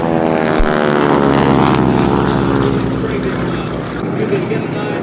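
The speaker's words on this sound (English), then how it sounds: "the Zeros doing their strafing runs and dropping smaller bombs in the foreground" Japanese Zero warplanes make strafing runs during a Tora Tora Tora reenactment at the 2017 Joint Base Andrews Air Show: a loud, sustained propeller-engine drone with shifting pitch and a sharp low thump near the start, steady throughout.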